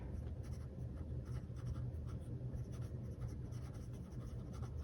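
Fountain pen nib scratching across the page of an A5 Sterling Ink planner, a faint, steady scribbling of close handwriting strokes with no voices.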